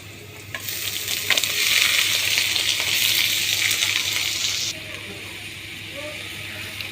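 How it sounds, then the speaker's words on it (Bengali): Garlic, onion, green chilli and leafy greens fry in a pan outdoors in hot sun, a loud, dense sizzle with stirring scrapes that drops to a quieter steady hiss partway through. "পেঁয়াজ আর কাঁচামরিচ তো ভাজিয়ে নিচ্ছি এখন হচ্ছে শাকগুলো দিয়ে দেই"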